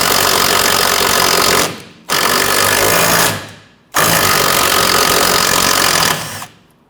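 A ratcheting swivel-head 14mm gear wrench spins a sway bar link nut off a 2006-2014 Honda Ridgeline rear suspension, producing loud, dense mechanical clicking in three sustained bursts, each ending abruptly with brief pauses between.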